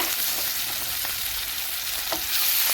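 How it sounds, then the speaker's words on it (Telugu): Chili powder, coriander and mint frying in a pan for quinoa prawn biryani, a steady loud sizzle with occasional stirring scrapes throughout. "కొంచెం వేగనిద్దాము"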